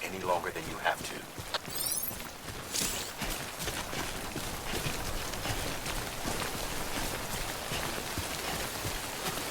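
Timefall rain patters down in the video game Death Stranding, a dense continuous hiss of rain on surfaces with scattered heavier drops and a few brief tonal sweeps near the start.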